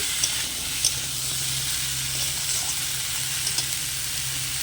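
Papaya curry with spices being stirred in a pan, a Bengali home dish, giving an even, close hiss of frying with faint occasional clinks of the spoon and no speech.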